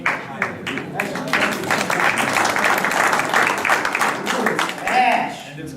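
Applause at a Belmar council meeting, a room of people clapping steadily for several seconds, moderately loud, with a murmur of voices mixed in.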